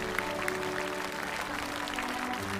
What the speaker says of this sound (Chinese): 我们也再次掌声谢谢杨守谦来到我们节目当中